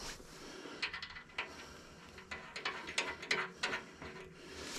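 A nut is tightened on the front end of a 2001 Harley-Davidson Springer, with quiet, irregular clicks and a ratchet-like metallic ticking close by.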